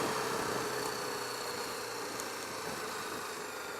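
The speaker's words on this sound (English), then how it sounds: "Fourth gear, 30 miles an hour. Feels like it'll do this all day." A BMW G310R motorcycle cruises in fourth gear at about 30 mph. Its engine makes a steady, low, even drone under constant wind rush, with no voices.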